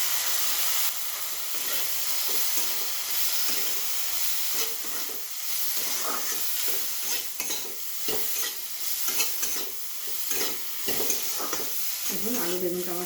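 Potato and eggplant frying in a pan, with a loud, continuous sizzle and hiss cut by frequent scraping and stirring strokes.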